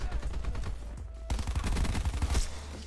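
An MX9 submachine gun fires in Black Ops 4: rapid full-auto bursts crackle close and loud, broken by a short gap before another sustained burst of fire.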